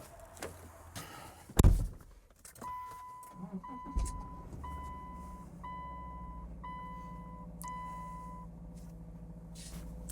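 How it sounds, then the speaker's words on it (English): A Subaru Outback is started after a clunk and rustle inside the cabin: a short starter crank, then a steady low idle settles in beneath a string of repeated electronic warning chimes. "I'm gonna start the vehicle"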